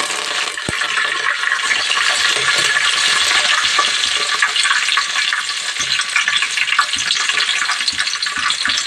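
Curry leaves dropped into onions frying in hot oil for pudina rice, giving a continuous loud sizzle and crackle with occasional stirring clicks from the pan.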